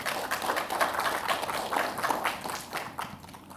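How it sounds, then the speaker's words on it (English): Applause from the audience at an ONNX annual meetup, a dense wash of clapping at moderate volume that continues steadily for a few seconds and fades slightly near the end. "So please give him a round of applause."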